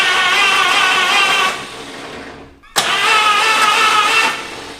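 An abandoned old Buick engine cranks over loudly in steady, continuous bursts, pausing briefly near the middle before cranking resumes and grows quicker.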